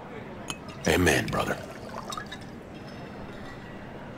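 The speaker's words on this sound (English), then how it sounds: "Pour you another?" A drink is poured into a glass at a bar in the video game Cyberpunk 2077, a short, close splashing pour lasting about half a second over quiet background ambience.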